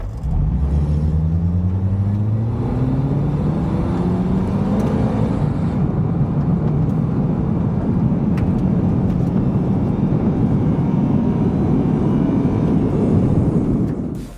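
A white Honda TSX with its stock transmission accelerates hard, engine note climbing steadily through the gears in rising sweeps, then settling into a loud sustained roar with road rumble, close and continuous with no talk.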